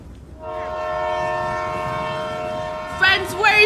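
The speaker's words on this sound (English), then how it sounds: "Where is the train going?" A train in The Sims video game sounds a long, steady, tonal horn as it passes, loud and sustained for several seconds, and then a voice breaks in at the end.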